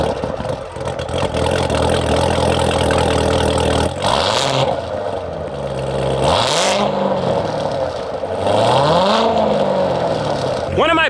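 A sports car's LT4 engine with a modified exhaust idles loudly and throatily up close, blipped by a few quick revs that rise and fall, with a voice talking over it.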